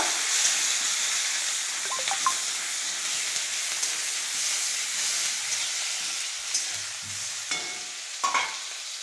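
Cumin and onion fry in oil, sizzling steadily in a pan with a constant hissing crackle, and a few soft clinks of a utensil stirring near the end.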